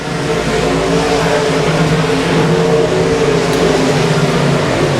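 Race cars circling Ark-La-Tex Speedway in Vivian, Louisiana, a loud steady engine drone of several cars blending into one continuous roar at mid distance.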